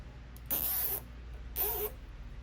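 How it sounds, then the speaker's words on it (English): A zip tie is pulled tight on a Murray lawn mower during carburetor work, giving two short, close ratcheting zips about a second apart. "So what I like to do on this style is install a zip tie."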